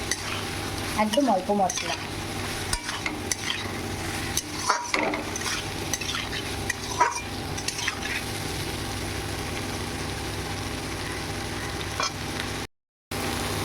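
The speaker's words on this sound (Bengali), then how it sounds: "আদা জিরে আর কাঁচা লঙ্কা, মশলাটা দিয়ে আমি কষিয়ে নেব" Papaya cooked with a ground paste of ginger, cumin and green chili is stirred and sautéed in oil in a pan, with continuous soft sizzling, scraping of a utensil and occasional clinks, and a brief spoken remark early on.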